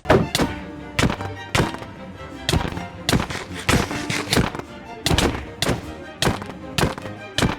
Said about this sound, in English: Orbital strike cannon fire!